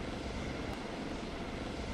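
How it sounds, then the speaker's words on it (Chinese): Two Chinese Z-19 attack helicopters pass in front of the spectator stands at an air show, a dense, continuous rotor and engine roar filling the whole stretch without pause or voices. "直十九专用武装直升机，现在是飞到了观众席的正前方。"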